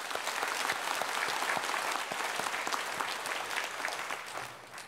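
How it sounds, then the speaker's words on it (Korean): A congregation at a Korean church Sunday service claps together in continuous, even applause, close and full, with no talking over it. "박수로 축하합시다."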